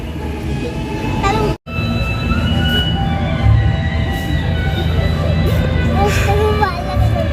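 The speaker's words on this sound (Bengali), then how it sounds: "ট্রেন চালু হচ্ছে" A train starts to move, rumbling and clattering steadily close by, with squealing wheel tones and a voice chattering over the noise.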